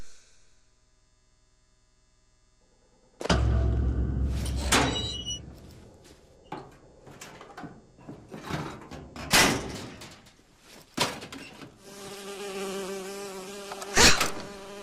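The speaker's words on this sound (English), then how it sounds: "Oh, it's a bee. I hate these things." Buzzing bee enemy in the BioShock video game, a droning insect hum that rises and falls over a busy game soundscape with loud thumps and clatter, no talk.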